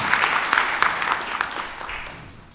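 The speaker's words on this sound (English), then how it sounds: "I really think that Rwanda needs a round of applause" Audience applause at an Africa Women Leaders Symposium, a short burst of scattered clapping from a crowd that thins out and fades within a few seconds.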